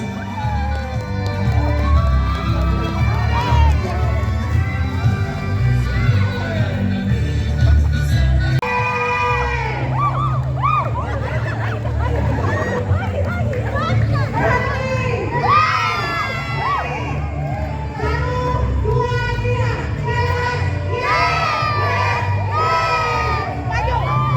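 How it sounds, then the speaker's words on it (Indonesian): Crowd at the opening of a sports event: a dense, continuous roar of cheering and shouting with many high, excited voices, loud and sustained throughout, with a brief dip around the middle. "Kita berikan aplaus yang paling meriah."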